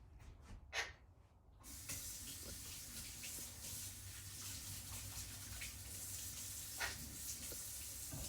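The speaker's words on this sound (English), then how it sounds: "So I'm going to rinse my hands." Hands are rinsed under a running tap, a steady close stream of water splashing into a sink after a short quieter start, with a brief clatter near the beginning.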